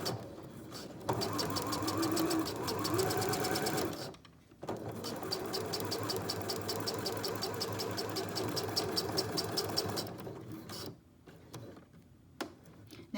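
Twin-needle sewing machine stitching a pocket into knit leggings, running in long steady whirring stretches with a fast mechanical tick, pausing briefly midway and slowing toward the end.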